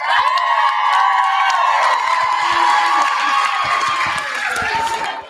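A large crowd of children and adults cheers, shouts and whoops loudly and continuously for teachers at a school event, the roar staying steady for several seconds.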